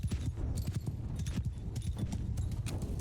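Cavalry horses move across the field in the medieval battle game Mount & Blade II: Bannerlord, a dense, quiet patter of many hooves thudding and clopping in overlapping rhythms from a little distance.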